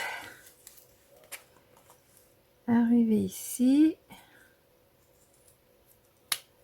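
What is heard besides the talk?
small scissors cutting while decorating eggs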